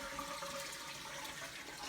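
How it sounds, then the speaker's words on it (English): A toilet flushing with its handle held down, a steady broadband rush of draining water that runs on unbroken and fairly close. "We're going to flush this toilet, and we're going to hold the handle down."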